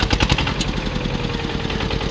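A Kubota KRT140 walking tractor with key-switch start and PTO fires up, its single-cylinder engine settling into a loud, steady, rapid chugging idle close by, with no talk.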